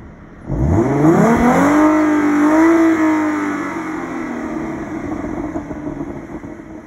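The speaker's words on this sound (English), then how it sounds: "Let's rev it up real quick." A car engine revs up sharply from idle, a loud, rising roar that holds high for a couple of seconds and then slowly winds back down to a steady idle, heard close with no talking.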